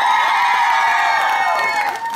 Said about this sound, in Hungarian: Szeretnék a születésnapos cimborámnak is kérni egy hatalmas tapsot